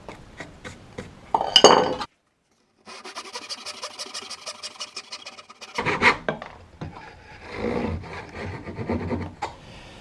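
Hand saw cutting out a notch in a wood workpiece, rhythmic rasping strokes close by, broken by a brief pause and then a fresh run of sawing.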